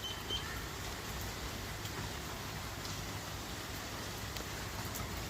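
Steady rain falls in Bathinda, a continuous even hiss of drops spread across the whole stretch, close and fairly loud, with no voices.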